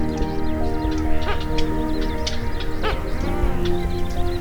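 A Grey-headed Swamphen in a Pakistani wetland gives loud, raucous, bleating calls that repeat in harsh bursts, close and prominent over a busy background.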